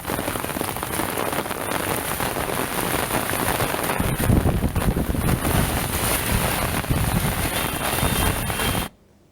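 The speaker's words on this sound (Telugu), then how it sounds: "తాజాగా హైదరాబాద్ నగరంలోని పలు ప్రాంతాల్లో వర్షం దంచికొట్టడంతో వాతావరణం మరింత చల్లబడింది." Heavy rain pours down in Hyderabad, a loud, dense, steady hiss of drops on surfaces that continues without pause and then cuts off abruptly at the end.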